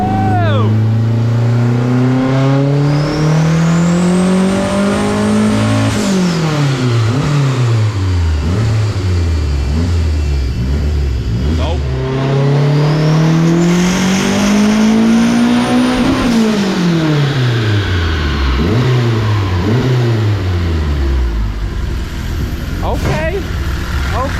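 Turbocharged K24 engine in an AWD wagon revving hard on a dyno, two long loud pulls rising in pitch then dropping, with turbo whine and loud continuous noise throughout.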